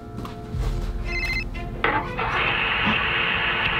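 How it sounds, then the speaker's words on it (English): A telephone ringing in the horror video game Ophelia and the Doll Maker: a brief electronic ringing tone over a loud, steady noisy game background, followed by a sharp thump and continued hiss. "The phone is ringing."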